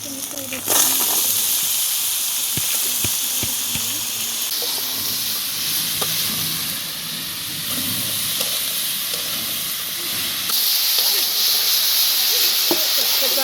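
Steady sizzling hiss of bitter gourd frying in a hot wok, with occasional clinks and stirring scrapes; a voice talks faintly at times.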